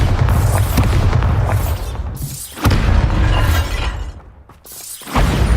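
Bombarda blasting-spell explosions in the Hogwarts Legacy video game, several loud booming blasts with shattering debris in quick succession, filling the scene with rumbling crashes.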